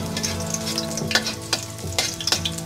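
Chopped garlic sautéing in hot oil in a pan for a pork stir-fry, a close steady sizzle with several sharp spoon scrapes and taps as it is stirred.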